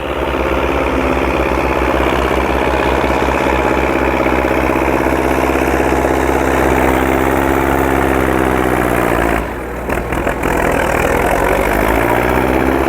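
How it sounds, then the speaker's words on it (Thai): An excavator engine idles loudly and steadily while the machine swings around during work spreading rice husks, its droning hum wavering slightly in pitch, with a brief clatter partway through. "แมคโครต้องหมุนไปฝั่งนู้นครับ ว่ารถเกียร์อยู่ฝั่งนี้"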